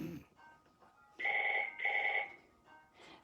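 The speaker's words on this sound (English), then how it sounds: "There's the phone." A telephone rings faintly in the background of a quiet room, with two short trilling rings in quick succession.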